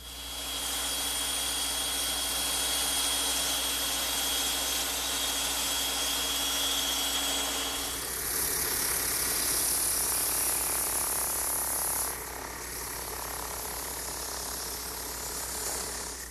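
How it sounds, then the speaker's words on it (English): A bandsaw cuts a wooden saddle piece for a rocking horse, a loud continuous whine and buzz that shifts in tone partway through as the blade moves through the wood, close up with no speech. "and I'll cut it on my bandsaw."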